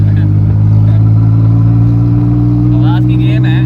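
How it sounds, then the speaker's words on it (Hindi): A loud auto rickshaw engine idles and revs steadily with a deep rumbling drone throughout, close by, with faint voices briefly audible over it. "आवाज कैसी लगी रक्षा की?"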